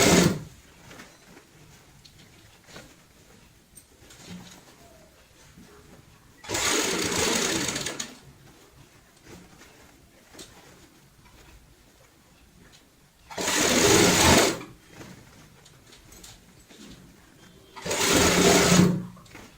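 An electric sewing machine stitches fabric for a baby girl's cap in three separate bursts of rapid whirring, each a second or two long, with quiet pauses between them.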